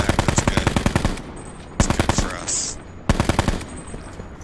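Automatic weapon fire in Call of Duty: Black Ops 4 comes in three rapid bursts of loud, evenly spaced shots, each burst lasting about a second with short gaps between.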